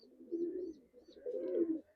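A pigeon in a loft gives two soft, low cooing phrases, close and fairly quiet, each lasting under a second with a short gap between, with no voices.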